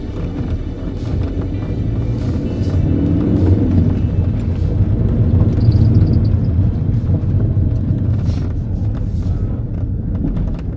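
An Alfa Romeo 147 engine drones steadily from inside the cabin, with low road rumble and an occasional faint rattle.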